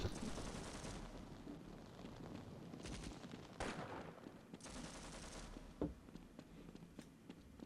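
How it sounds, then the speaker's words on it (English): Gunfire in the Half-Life video game: faint bursts of shots and blasts scattered over several seconds, some sharp isolated cracks among a murky background, no talking. "This was just me randomly hearing that shooting noise"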